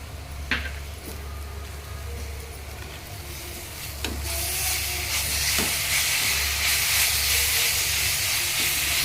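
Gongura leaves dropped into a hot pan with chili powder and oil set off a steady hiss that swells louder midway, with a few faint spoon clicks, no talking.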